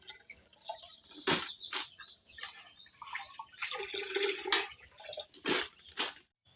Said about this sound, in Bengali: বিসমিল্লাহ যে পুকুরে ধুয়ে নিয়ে আসি পরিষ্কার হবে চাউলটা